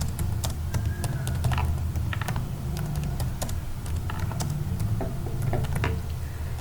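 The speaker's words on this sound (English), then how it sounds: "Then start typing in MS Word to create the file." Steady, fast typing on a computer keyboard while writing a document in MS Word, a continuous stream of close, crisp key clicks with occasional heavier keystrokes over a low background hum.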